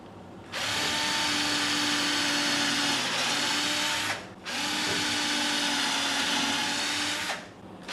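A Milwaukee M12 cordless drill drives into wood while building a potato box, two loud, sustained whining bursts of several seconds each, separated by a short pause, close and alone.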